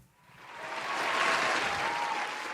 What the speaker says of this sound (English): where's my round of applause?